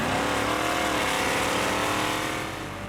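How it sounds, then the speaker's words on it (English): Sports cars drag racing on the converted Gimli landing strip, a loud sustained engine roar held close that eases slightly at the end, no voices. "The Gimli landing strip has been converted into a drag racing strip."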